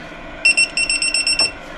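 A digital torque wrench tightening brake hardware on a Honda CRX gives a quick run of about eight short, sharp electronic beeps in a steady rhythm, close and loud against a quiet background.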